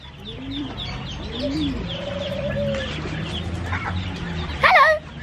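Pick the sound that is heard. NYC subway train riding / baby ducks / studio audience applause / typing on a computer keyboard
baby ducks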